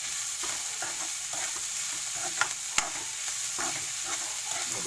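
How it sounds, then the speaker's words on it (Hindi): Chopsuey vegetables fry with sauce in a pan over a high flame, giving a steady, close sizzle broken by the scrape and clatter of stirring. "ये देखिए ऐसे हाई फ्लेम में ही फ्राई करना है आपको।"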